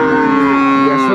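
A milking cow with a calf lets out a single close, loud, drawn-out moo at the Aftabganj cattle market in Dinajpur.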